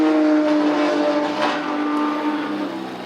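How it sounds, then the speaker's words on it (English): A race car engine revs hard at the top of third gear and bangs against the rev limiter during a Gridlife Midwest track event. The loud, close engine note wavers and stutters before it eases off slightly. "Top of third gear, banging limiter in third."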